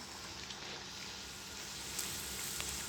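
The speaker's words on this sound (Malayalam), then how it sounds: "എന്നിട്ട് നമ്മുടെ എണ്ണയൊക്കെ ഒന്ന് ചൂടായിട്ടുണ്ട്. അപ്പോൾ നമുക്ക് ഇട്ട് കൊടുക്കാം അതിലേക്ക്." Potato poori dough fries in hot oil with a soft, even, crackling sizzle that holds steady at low volume, with a few faint pops and no talking.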